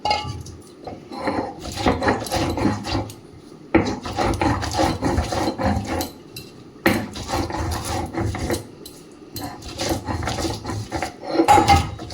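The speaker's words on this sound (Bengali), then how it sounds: "তার সঙ্গে আমি বেটে নেব খোলা" Discarded shrimp shells ground on a grinding stone, a rhythmic rough rasping and rubbing in steady bursts with short pauses, close and fairly loud, no talk.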